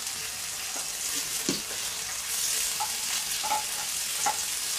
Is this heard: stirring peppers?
yes